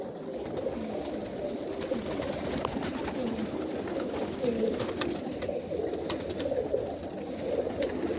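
Pigeons coo steadily in a pigeon loft in Jasienica, many overlapping soft, throaty calls forming a dense, continuous murmur close by, with no talking.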